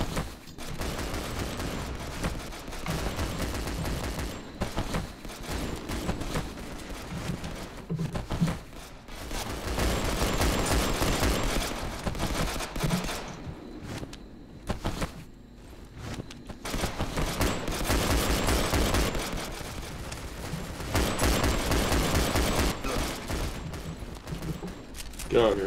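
Rapid gunfire fills a round of the video game CS:GO, with repeated bursts of shots coming in waves under steady talking throughout.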